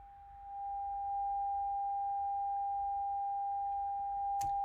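A phone phreaking tone that mimics coin signals: one steady, pure electronic whine held continuously for several seconds, loud and alone, ending with a brief click.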